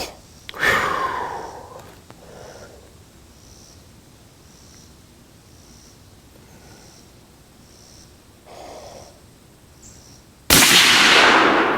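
A single Bergara B-14 HMR .308 rifle shot fired at a target group, one sharp loud report near the start, then quiet breathing and faint background noise before another loud burst at the end.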